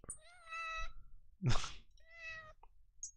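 A small cat meows nearby indoors, two drawn-out mews separated by a brief rustling thump, quiet and close with no one speaking over them.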